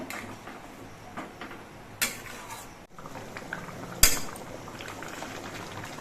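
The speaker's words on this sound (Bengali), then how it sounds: "এবার আবার কিছুক্ষণ ঝোলটা ফুটিয়ে নিতে হবে" Shrimp and taro curry gravy bubbles steadily in a pan, a soft continuous simmer with two sharp clinks of utensil against metal partway through.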